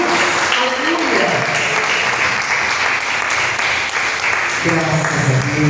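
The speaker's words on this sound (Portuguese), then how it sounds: "Agora eu te convido a dar a mais forte salva de palmas ao Senhor Jesus." Church congregation applauding during a Portuguese-language sermon, a dense steady wash of clapping that runs the whole time while voices call out over it, with a louder spoken exclamation near the end.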